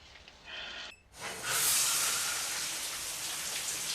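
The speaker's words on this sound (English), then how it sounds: "Taking a shower." Shower running in the 1960 film Psycho, a brief hiss and pause before the spray bursts on, then a loud, steady rushing patter of water that holds evenly to the end.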